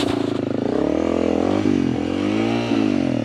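A dirt motorcycle engine revs loudly and unevenly up close, pitch climbing and dipping as the bike is walked up a steep trail.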